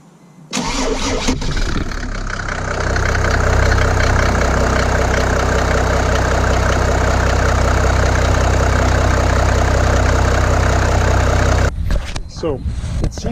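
A Mercedes E300 with an OM606 diesel engine and a fuel leak cranks and fires, then settles into a loud, steady, close diesel idle that runs for about eleven seconds before a brief disturbance near the end.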